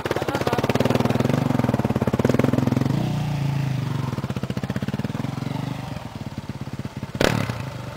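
Motorcycle in a rally through southern Madagascar, its engine chugging loudly and close, then easing as it rolls past, with a sharp clack near the end.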